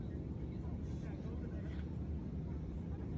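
A dense, steady low roar of airplane cabin noise fills the space continuously, loud and broadband, with faint talk mixed underneath.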